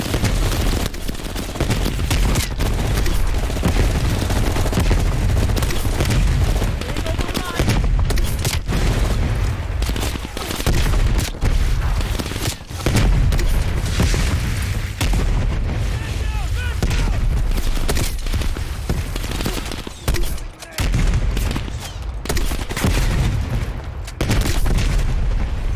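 Firefight in Call of Duty Black Ops Cold War: near-continuous gunfire and booming explosions during a VC attack on crash survivors, loud and dense with repeated heavy blasts, voices talking at times over the chaos.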